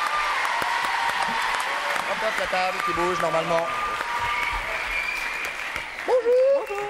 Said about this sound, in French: mesdames, messieurs, sous vos applaudissements, Anne-Béatrice